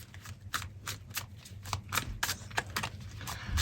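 Tarot or oracle cards being shuffled by hand during a card reading, a close series of soft papery riffles and flicks repeating in quick, uneven bursts.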